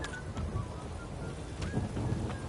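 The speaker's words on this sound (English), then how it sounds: "This downpour's a bastard" Heavy downpour in the game Witcher 3, a dense steady hiss of rain with low rumbles beneath, continuous and close, no voices.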